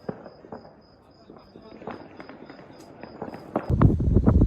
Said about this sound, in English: I'm seeing tracer rounds going off. There you go. People shooting all over the place.